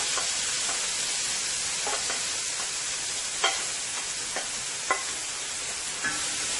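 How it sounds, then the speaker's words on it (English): Onions and chili pepper fry in hot oil, a constant loud sizzling hiss broken by a few soft stirring scrapes and taps, with no voices. "my oil is nice and hot. Let's go ahead and add our onions and chili pepper"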